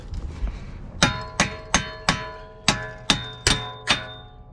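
A hammer smacks the hub of a 2021 Hyundai Santa Fe during hub and CV shaft replacement, giving eight loud, ringing metallic clangs at a fairly even pace, close up with no talk.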